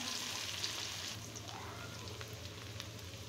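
Onion frying in a pan until golden brown, a steady close sizzle and crackle of hot oil with no talking.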